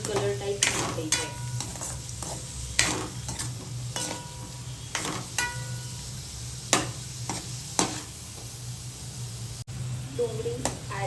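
Onion frying in oil for paneer butter masala, stirred with a spoon until brown, giving a soft steady sizzle broken by repeated sharp scrapes and clinks against the pan, close by, with a voice talking over it.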